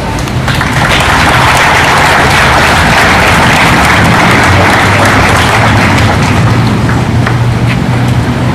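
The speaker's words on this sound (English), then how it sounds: "Give her a round of applause." An audience applauds a speaker at an Agent Orange survivors' event, loud steady clapping throughout with a low rumble underneath.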